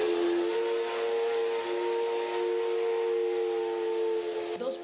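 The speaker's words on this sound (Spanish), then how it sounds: "por última vez se escuchó el silbato de una locomotora" A locomotive whistle at Chimbacalle station in southern Quito sounds one long, steady, sustained blast with a breathy hiss, loud and unbroken for nearly five seconds before cutting off.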